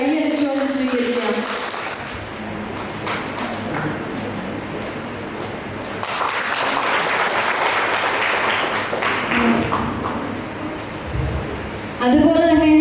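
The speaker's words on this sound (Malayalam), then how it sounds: "നമുക്ക് സിസ്റ്ററിനെ ഏറ്റവും വലിയ സ്നേഹത്തോടെ കൈയടിച്ചുകൊണ്ട് സ്വീകരിക്കാം" An audience at a silver jubilee gathering applauds to welcome a nun, a dense, loud burst of many hands clapping that runs continuously and swells midway, with music faintly beneath.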